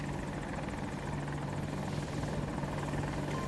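An attack helicopter in a video game flies overhead, its rotor and turbine making a continuous, even drone at moderate volume for the whole stretch, with no voices.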